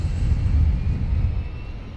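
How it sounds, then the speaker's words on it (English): Simulated Boeing 777F auxiliary power unit spooling up in the PMDG flight simulator, a low steady rumble with a faint high whine rising over it, no talking. "APU spooling up. Turn the sounds up just a tad. Hear that bad boy spool up."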